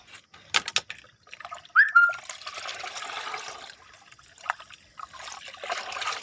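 Water trickles onto the compost-topped soil of a potted pumpkin plant in a rooftop terrace garden, heard as a steady, fairly close pour with a few sharper splashes and no talking.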